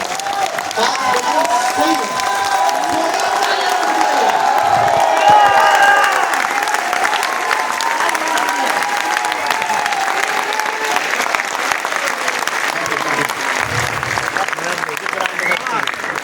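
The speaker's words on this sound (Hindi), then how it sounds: "एक बार खड़े होके आपकी तालियां बताएंगी" An audience at a speech event bursts into sustained applause, a dense roar of clapping filling the space with some cheering mixed in, and a few voices talk over it near the end.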